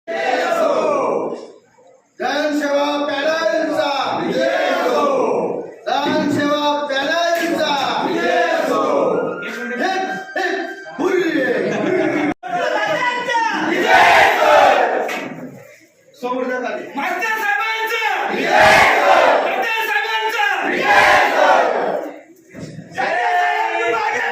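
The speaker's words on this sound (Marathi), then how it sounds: "निवडणुकीनंतर एकच जल्लोष व्यक्त करण्यात आला" Crowd of supporters celebrating the Jansewa panel's win in the Moghan multipurpose cooperative service society election, with loud, continuous massed shouting and cheering that swells and dips with brief pauses.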